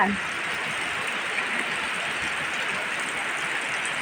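Rain pours steadily onto the surface of a backyard pond during an all-day downpour, making a continuous, even hiss of drops close by that never lets up.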